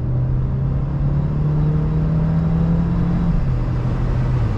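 Mercedes A200 sedan AMG Line engine droning steadily from inside the cabin while driving, a low hum holding one pitch before dipping slightly near the end, with no speech.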